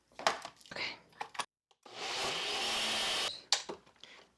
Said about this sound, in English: Blend.